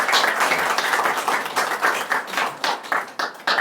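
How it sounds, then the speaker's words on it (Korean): Audience applause at a memorial committee launch ceremony, a dense sustained clapping from a sizable crowd, steady and fairly loud throughout without talk. "네, 큰 박수 부탁드리겠습니다."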